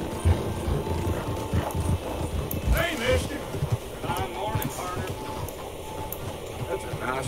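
Horse hooves clip-clop in a steady, close, continuous rhythm in the video game Red Dead Redemption 2, with a voice briefly speaking over the hoofbeats partway through.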